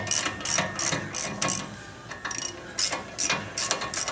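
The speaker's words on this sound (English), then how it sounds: "Taking this lower ball joint nut off." Ratchet loosening the lower ball joint nut on a 2005 Ford F150, a rapid clicking pawl heard in repeated close bursts of ratcheting strokes with short pauses between them.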